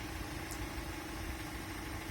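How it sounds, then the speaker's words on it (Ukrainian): A Renault Master L2H2 2020 van's 140-horsepower single-turbo diesel engine idles steadily with a low, even rumble and vibration, constant throughout and fairly close. "зараз машина працює"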